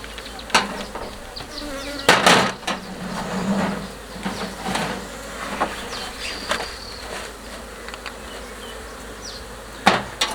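Honeybees from a colony trapped out from under a bath in Johannesburg buzz steadily around an open hive during inspection, with close passing drones, sharp knocks of frames and equipment, and brief handling sounds.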